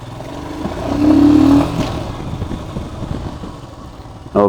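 A BS6-compliant motorcycle ridden, with a steady engine drone and a brief swell in revs near the start, mixed with clatter and road noise up close and fairly loud.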